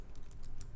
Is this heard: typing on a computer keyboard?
yes